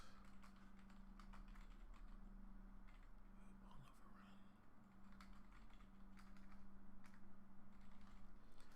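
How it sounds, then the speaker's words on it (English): A computer keyboard is typed on steadily in a quiet room, a dense run of soft clicks with a low hum underneath and a brief whisper partway through. "I'm just going to type a question for you guys."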